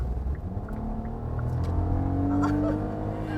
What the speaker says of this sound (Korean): RPM은 높아지는데 와, 차는 안 나. 방금 풀악셀이었거든요.